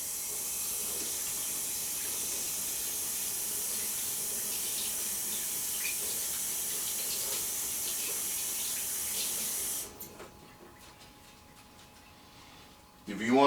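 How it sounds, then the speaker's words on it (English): A kitchen tap runs steadily and close while hands are washed, a continuous bright hiss and splash for about ten seconds, then the flow stops, leaving faint clatter and a brief swell of sound at the end. "Wash my hands."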